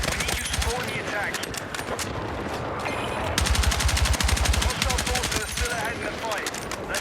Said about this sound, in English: If you can control a gun's recoil, you can definitely hit some longer range shots, even in full auto.